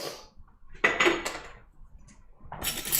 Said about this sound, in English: So now I'm just gonna give them a quick stir.